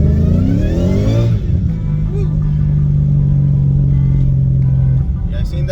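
A supercharged car with a ported supercharger and 105mm throttle body accelerating hard in third gear, a loud close engine roar rising in pitch, then holding a strong sustained drone with supercharger whine.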